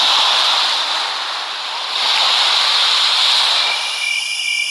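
Steady broadband rush of surf from a meditation app's sea-waves track, a continuous wash of waves with a slight dip and swell in loudness, no voices.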